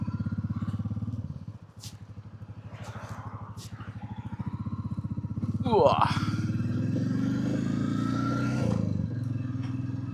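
A Royal Enfield Meteor motorcycle thumps along at a steady low beat close by, then revs up with a rising note and keeps pulling on the road.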